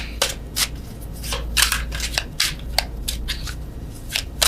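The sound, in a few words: shuffling tarot cards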